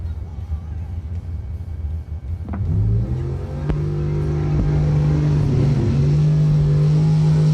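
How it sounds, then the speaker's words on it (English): Dragster engines idle and rev during a warm-up round, starting as a low rumble, then swelling into a louder, sustained drone with rising and shifting pitch that stays steady and prominent through to the end. "Kick Booty Motorsports 15K warm-up round 3 dragsters coming out."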